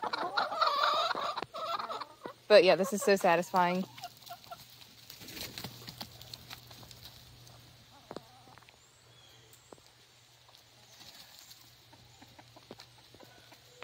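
Chickens at their coop give a loud burst of clucking and squawking in the first few seconds, then fainter scattered clucks and rustling over a quiet yard, with a person speaking briefly.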